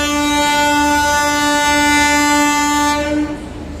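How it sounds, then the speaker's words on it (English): A loud, sustained horn from the Shatabdi Express arriving from Chennai blares steadily for about three seconds with rich harmonic tones, then cuts off as rail rumble continues close by. "It's the Shatabdi Express from Chennai that is coming."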